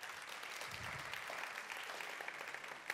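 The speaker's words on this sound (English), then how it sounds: "they deserve another good round of applause" An audience at a stakeholders' briefing gives a round of applause, a faint, continuous patter of many hands clapping from a distance, without speech.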